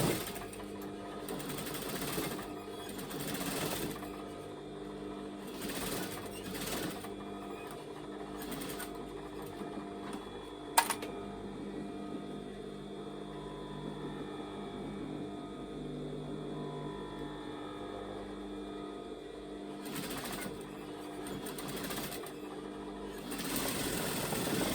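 Domestic sewing machine stitching fabric onto elastic for a pair of lounge trousers, its rapid mechanical whir running in several bursts of steady stitching with short pauses and a sharp click partway through.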